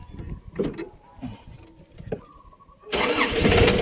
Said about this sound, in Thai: อ่าเดี๋ยวเราฟังเสียงเครื่องยนต์กันครับ